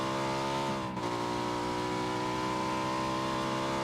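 A motorbike engine drones steadily in PUBG on the Sanhok map, holding a constant pitch with one brief dip near the start, close and alone with no talk.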